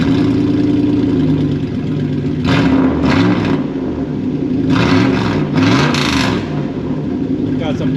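A loud car engine with its mufflers cut off revs in a few sharp bursts over a steady rumbling idle, raw and throaty, with a voice briefly heard underneath.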